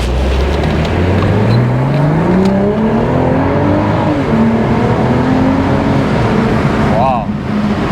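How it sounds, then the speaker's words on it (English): A BMW Z4 M40i launches hard from a traffic light, its exhaust a loud, close, continuous roar whose pitch climbs steadily through the gears. "let me know if you like this exhaust note on Z4 M40i"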